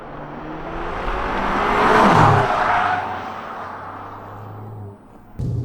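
A Volkswagen Polo GTI 25th Anniversary limited edition, automatic, on Continental SportContact 5 tyres, drives along a street, its engine and road noise swelling steadily, peaking mid-pass and then easing off, with no voices.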